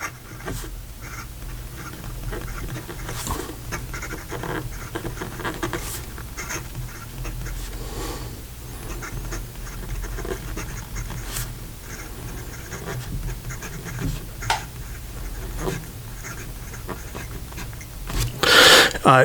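A Wancher Dream Pen true ebonite fountain pen with a medium nib writing on paper, faint continuous scratching broken by short taps and strokes, close and quiet, ending in a louder brush near the end.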